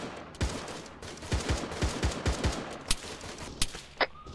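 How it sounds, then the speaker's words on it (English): Gunfire in Arma 3 on Takistan, a rhythmic string of punchy shots with a deep low thump each, followed by a few sharper isolated cracks, moderately loud and spaced apart. "I'm taking fire still from the hill somewhere"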